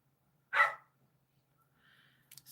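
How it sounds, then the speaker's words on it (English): Dogs give a single sharp, loud bark near the start, then a faint whine and a few small, quiet yips come from them toward the end. "so now the dogs have to be vocal"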